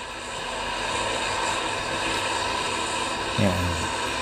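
A constant airplane engine drone aboard the plane in a mobile video game, a steady low hum and whine that continues throughout, with a brief thump near the end.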